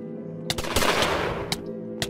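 Gunfire in the Yandere High School roleplay video game: several sharp close shots, one near the start followed by a burst of rapid fire, then two more single cracks spaced about half a second apart, without talk.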